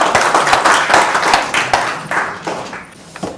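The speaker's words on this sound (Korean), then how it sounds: "여러분 큰 박수 부탁드립니다." Audience applause at the opening ceremony of a policy forum in a seminar room, a dense burst of hand clapping that thins out and fades toward the end.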